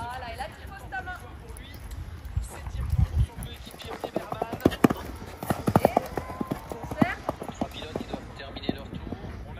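A horse trots in an arena during a show-jumping lesson, hooves giving a steady rhythmic clip-clop of irregular loudness, with an instructor and other voices talking throughout.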